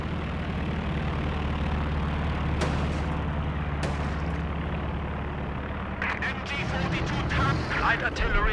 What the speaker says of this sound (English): Artillery fired.